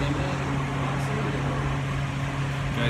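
An evaporative air cooler runs outdoors in hot weather, giving a steady, close whirring drone with a constant low hum and no pauses.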